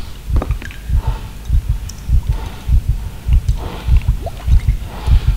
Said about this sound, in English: we hear our heartbeat now